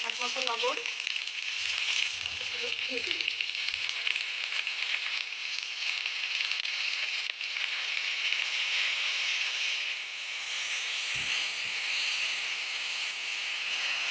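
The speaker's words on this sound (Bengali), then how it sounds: "মশলার সাথে সিম আলু বেগুন একটু ভাজা ভাজা করে নিলাম" Beans, potato and eggplant fry with spices in a pan, giving a steady, even, loud sizzle that continues throughout with only a brief low thump near the end.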